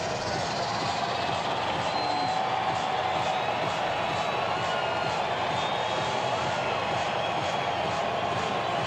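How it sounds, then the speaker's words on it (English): Baseball stadium crowd at a Nationals vs Diamondbacks game, a steady dense roar of cheering and chatter throughout, broad and continuous with no clear individual voices standing out. "So that gets the crowd revved up a bit."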